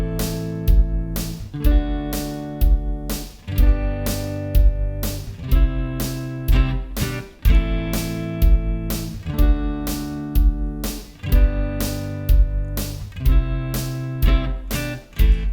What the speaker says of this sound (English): So if you were to play it with bar chords, it would sound like this.